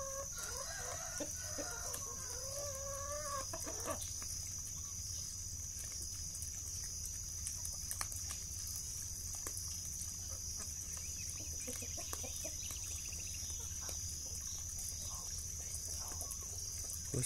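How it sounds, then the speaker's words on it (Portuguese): Farm chickens cluck and a rooster crows while they peck at corn on a snowy early morning, the calls close and fairly loud over a constant background hum, with scattered softer clucks afterward. "Pouquinho mesmo galinha vai comer o milho."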